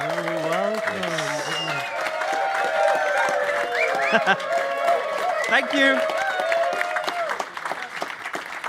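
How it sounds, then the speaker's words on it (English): Sustained audience applause at a live Codegarden 2024 conference stream, loud and continuous throughout, with a presenter's voice speaking over the clapping near the start. "Lots of respect for giving us a big round of applause there"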